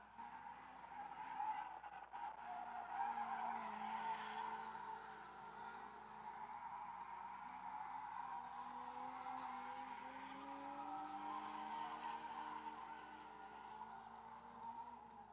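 Cars slide and skid around a dirt track with berms, tires squealing and engines droning continuously in the distance, a steady layered roar that rises and falls.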